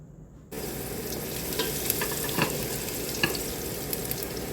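Onion sautéing in hot oil in a pan on an induction cooker, a steady close sizzle starting abruptly after a short quiet moment and continuing with occasional stirring clicks and pops.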